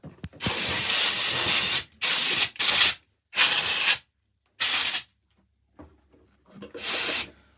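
Oil spray aerosol hissing onto a repaired scooter's front fork: several loud, close bursts of about one to two seconds each, separated by short silences, with a brief faint rattle between them.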